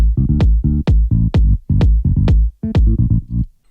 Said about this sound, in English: Really punchy and thumpy kick.